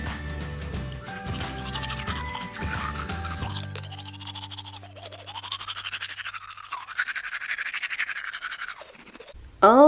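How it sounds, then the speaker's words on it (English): A toothbrush scrubs a plastic mermaid baby doll's teeth in quick, close, scratchy strokes, steady and rhythmic, over a background of music. "Time to brush your teeth."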